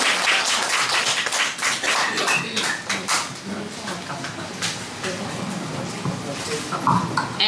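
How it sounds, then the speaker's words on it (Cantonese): An audience applauds a speaker at a community centre's monthly meeting, a burst of scattered, moderately loud hand claps with voices talking over and around it. "俾掌聲先。"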